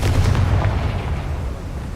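A fire spell explosion in the video game Hogwarts Legacy: a deep, rumbling boom that starts loud and slowly fades over two seconds, heard alone.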